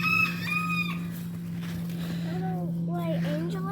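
Chickens cluck and a rooster crows close by in several short bursts, over a constant low electrical hum.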